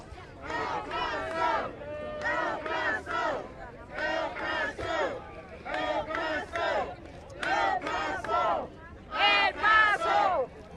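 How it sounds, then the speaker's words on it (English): A large outdoor crowd at a march in El Paso, Texas chants "El Paso" in loud, rhythmic bursts, about five or six rounds with short gaps between them, voices massed together up close. "I can get with the El Paso chant."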